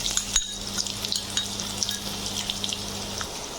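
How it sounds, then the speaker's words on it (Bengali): Round, half-boiled potato slices deep-fry in hot oil with a steady, close sizzle and crackle, punctuated by a brief clatter near the start. "আমার আলুগুলো ডিপ ফ্রাই করা হয়ে গেছে"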